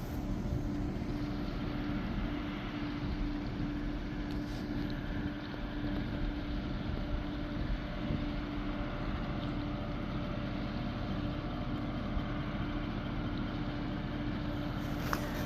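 Ferry boat engine running out on the water, a steady low droning hum with a constant tone and wind rumble, continuous and moderately loud throughout, with no voices.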